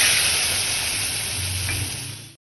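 Chicken sautéing with salt, turmeric, chili powder, tomato paste and yogurt gives a steady, close, dense sizzle that holds throughout, then cuts out briefly near the end.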